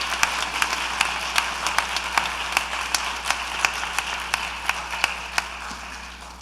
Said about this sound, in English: Let me get another round of applause for these remarkable social justice scholars here.